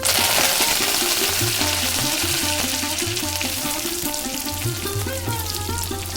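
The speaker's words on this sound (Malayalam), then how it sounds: "ഒരു ടേബിൾ സ്പൂൺ വെളിച്ചെണ്ണ ചൂടാക്കി കടുകും കറിവേപ്പിലയും മച്ചൽ മുളകും ചേർത്ത് കൊടുക്കാം" Mustard seeds, curry leaves and dried chillies sizzle in a tablespoon of hot coconut oil in a pan, a steady bright crackle that holds level throughout, with music playing underneath.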